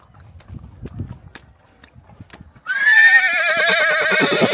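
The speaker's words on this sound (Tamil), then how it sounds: "குதிரை நம்ம வெயிட்டை தாங்காம கத்துதுன்னு நினைக்கிறேன்" A horse carrying riders on a snowy mountain trail at Sonamarg, Kashmir gives a loud, long wavering neigh that drowns out its hooves, which clip-clop faintly beforehand. Quiet voices can be heard in the background.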